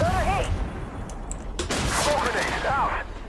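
Tank cannon fire in the armored-combat video game Armored Warfare booms out in heavy blasts amid continuous battle noise, with a voice talking over the gunfire throughout.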